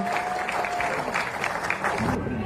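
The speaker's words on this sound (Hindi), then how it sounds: "जोरदार तालियों से उनके स्वागत करिए" An audience at a Bhojpuri film award ceremony claps for a winning actor and singer as the award is handed over, a dense, continuous round of applause from a sizable crowd, fairly loud and sustained throughout.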